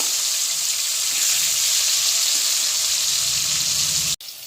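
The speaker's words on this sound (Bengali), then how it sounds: "মাছের এক পাশ হয়ে গেছে, আমি উল্টে দিচ্ছি। এই পাশটাকেও ভালো করে ভাজতে হবে।" Pangas fish pieces frying in hot oil after being flipped, making a loud, dense, continuous sizzle close by that cuts off abruptly near the end.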